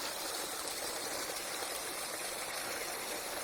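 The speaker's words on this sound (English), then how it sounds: "Eventually leads you to another cascade." A water cascade in the woodland burn at Stanley Burn Wood, Prudhoe, rushing in a steady, unbroken wash of even noise with no other sounds.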